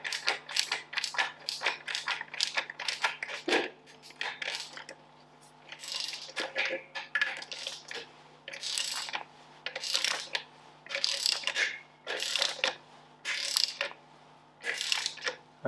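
A socket or spanner ratcheting off 9/16 nuts on a Ferguson TED20 tractor's brakes: bursts of quick metallic clicking, repeated in short runs with pauses between, close and fairly quiet over a faint steady hum.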